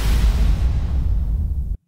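A processed boom sample triggered in a sampler lands as a loud, heavy low-end blast with a hissing airy top that decays gradually, then cuts off abruptly into silence, with no talk over it.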